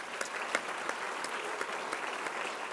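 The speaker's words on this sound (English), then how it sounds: "Let's applaud him." An audience at a college's fall address applauds with steady, even clapping that carries on at moderate volume, sharper individual claps standing out above the continuous patter.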